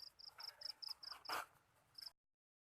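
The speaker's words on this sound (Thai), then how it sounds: "จิ้งหรีดน้อยนี่มีหลายอยู่" Small crickets chirping at night beside a light trap, a steady run of short, evenly spaced high chirps with one brief louder rustle near the end, faint and fairly close.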